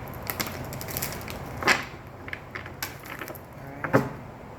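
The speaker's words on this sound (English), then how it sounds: "One more shuffle." Tarot cards being shuffled by hand, giving scattered soft papery flicks and a few sharper riffle snaps at an uneven pace, close and fairly quiet with no talk.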